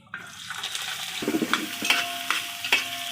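Chopped vegetables for egg fried rice hit a hot pan outdoors by a field, setting off a rising sizzle with scattered metallic clinks and scrapes from stirring.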